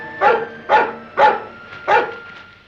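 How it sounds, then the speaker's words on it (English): Four sharp dog barks at a steady, evenly spaced rhythm, fairly close and loud, heard outdoors near marshy ground with no talking. "What's the matter with that dog?"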